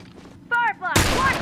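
Gunfire in The Last of Us Remastered multiplayer, with a single sharp loud shot bursting in near the end after a short stretch of talk.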